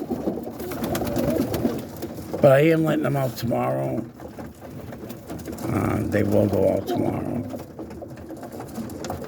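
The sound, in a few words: roller pigeons cooing in loft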